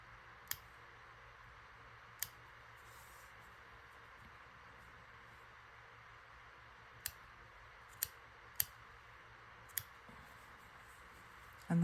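Scissors snip through crochet edging in a quiet room, sharp isolated clicks spaced irregularly, about six cuts with long pauses between, close and crisp over a low background hiss.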